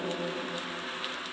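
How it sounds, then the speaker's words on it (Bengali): Rain begins falling as a story sound effect, a steady close hiss of drops on a surface with faint scattered droplet ticks throughout. "এই সময় হঠাৎ বৃষ্টি শুরু হয়ে গেল।"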